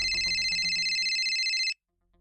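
An incoming call sets a telephone ringing with a loud, steady electronic trill for about a second and a half before it cuts off abruptly, followed by near silence and faint rustling.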